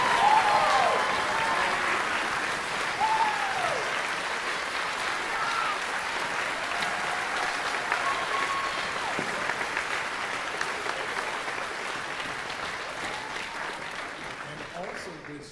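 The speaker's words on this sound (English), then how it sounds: "So please give them a round of applause." Sustained applause from a high school band concert audience fills a large room, steady and dense throughout, with faint voices and whistles rising through it before it thins slightly at the end.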